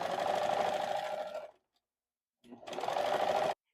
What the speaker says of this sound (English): I'm going to go ahead and get back to my serger and just serge each one of these